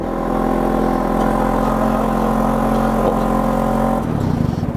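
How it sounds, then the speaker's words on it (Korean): A Maserati Grecale idles steadily through its real quad exhaust at a launch event, a loud, even low rumble heard from behind the car that settles into a rougher, pulsing note near the end. "배기 소리 괜찮네요"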